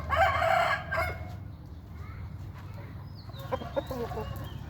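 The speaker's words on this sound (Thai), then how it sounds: "ตัวนี้ก็เป็นไก่เชิงนะครับตัวนี้" A Thai fighting rooster gives one loud, close crow at the start, followed by quieter clucks and scattered bird calls in the background.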